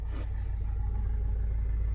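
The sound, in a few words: diesel car engine starting and idling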